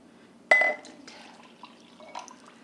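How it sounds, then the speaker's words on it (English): Warm water is poured into a glass jar holding cornstarch: a sharp clink and brief splash, then faint trickles and small glassy knocks in a quiet kitchen. "I'm going to add some warm water to this."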